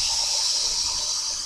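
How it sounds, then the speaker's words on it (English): Water poured into the reservoir of a Keurig K-Mini Plus coffee maker, a steady close splashing hiss with no break, heard alone. "So let's put some water in."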